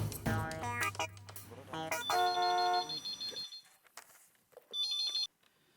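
A telephone rings in a noisy comedy scene, its electronic tone sounding in short bursts over other sounds and fading in and out, with a final ring toward the end.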